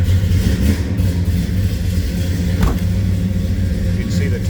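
A 1970 Pontiac GTO convertible with its engine idling, a deep steady rumble with a low throbbing pulse close by, one brief rise midway, and someone talking over it.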